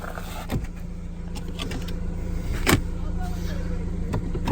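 A 2015 Ford Escape S sits running with a low, steady engine hum, punctuated by a few clicks and knocks from inside the cabin, with occasional quiet speech.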